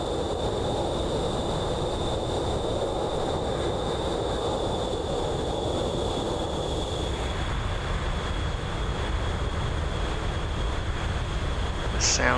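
A B-2 Spirit jet engine drones as a steady, wide rumbling roar in the MSFS flight simulator, with a constant high whine running through it. The sound is continuous and even, with no talk.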